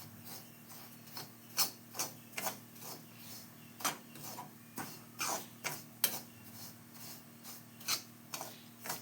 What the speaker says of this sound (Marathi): आता त्याच तोपामध्ये रवा भाजून घेऊया बरासा लालसर होऊ द्यायचा आहे